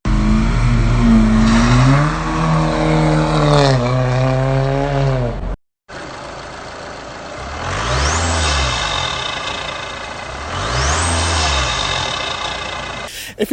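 A Volkswagen Jetta SportWagen engine revs hard several times, rising and falling in pitch, loud and close, with a brief cutoff midway.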